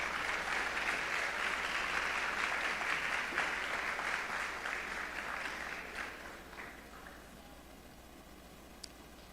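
Audience applause at an award ceremony, sustained clapping from a crowd that holds steady for several seconds, then thins and fades out into near quiet with a few stray claps.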